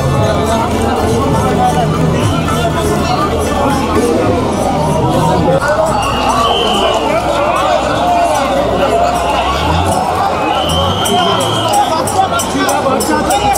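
A dense, loud crowd at the Puri Ratha Yatra festival, a continuous babble of many voices and shouts close around, with chanting or calls rising over the hubbub.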